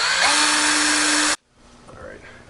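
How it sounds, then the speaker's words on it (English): A power drill bores a pilot hole for a mounting bracket during a safety switch shield install, whining loudly and steadily up close for about a second before cutting off abruptly into quiet room noise. "I'm going to pre-drill this top hole first so I have a pivot point"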